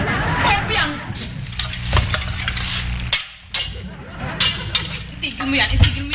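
Metal cooking pots banged together like cymbals: a series of sharp clanging crashes and metallic clatter amid excited talking, loud and close.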